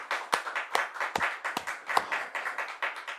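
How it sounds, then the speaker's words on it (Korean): A church congregation claps during a Sunday worship service, a fairly quiet, steady rhythm of group claps with regular pulses, heard alone without talk. "박수."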